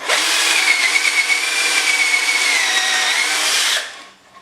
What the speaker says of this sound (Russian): беру сверло Фоснера, вставляю в отверстие и произвожу нужное сверление